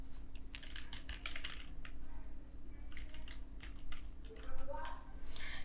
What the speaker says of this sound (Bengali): কাউন্ট এখানে লিখলাম, লেখার পরে ট্যাব বাটনটি প্রেস করলাম।